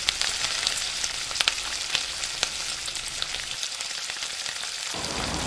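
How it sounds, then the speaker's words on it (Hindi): Boiled, tender mutton boti sautéing with fried onions in a hot pan, a steady dense sizzle with occasional sharper crackles and scraping stirs, close and continuous with no talk. "अब हम इसी में ऐड करेंगे बॉइल्ड बोटी, यानी गली हुई बोटी। अच्छी तरह से सॉटे करिए।"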